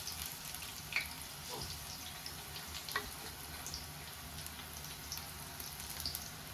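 Mirchi bajji batter frying in hot oil for street-style bajji, a steady soft crackle and sizzle with faint pops throughout, close and moderate in level.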